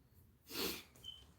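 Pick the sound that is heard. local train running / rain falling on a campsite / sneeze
sneeze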